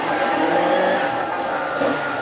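Hot rod race cars roll around the oval at Hednesford for a rolling lap start in the Bill Morris Memorial English Open Final, engines droning steadily together as one continuous loud roar with no break.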